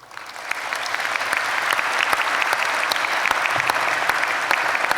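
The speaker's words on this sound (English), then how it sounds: "I think you all deserve a round of applause from the students" A graduation ceremony crowd bursts into dense, sustained applause, steady and fairly loud throughout as many hands clap together in a large hall.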